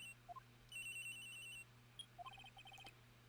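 A cell phone rings in the Phoenix Wright: Ace Attorney game, a quiet electronic ringtone of short beeping tone bursts and melodic chirps repeating in a few groups over a low steady hum.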